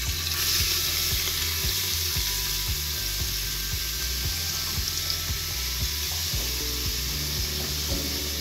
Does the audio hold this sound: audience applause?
no